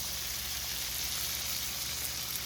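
Onions fry in a pan, giving a steady bright sizzle and crackle that holds evenly throughout, close and moderately loud, with no one speaking.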